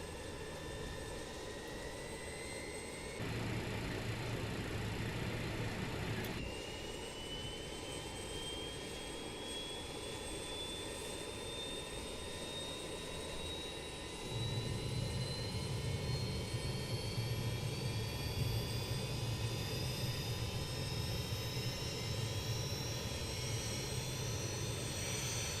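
BAE 146 jet engines spool up during startup in Microsoft Flight Simulator, a steady whine rising slowly in pitch over a constant roar that steps louder twice as more engines join in, with no voices.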